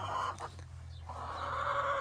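An old hen clucks close by, a few short throaty clucks with a brief pause between them, standing out against a quiet outdoor background.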